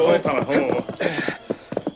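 Horse hooves clip-clop in a radio drama scene with a horse named Silver, short knocking steps heard near and under overlapping dialogue.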